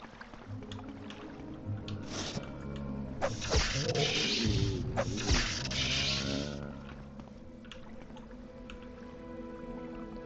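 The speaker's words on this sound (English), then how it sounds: "I hear water." Water sloshes and gurgles in a cavern setting in the modded video game Morrowind, swelling to a loud rushing wash for several seconds over a low ambient drone before fading back, with no speech.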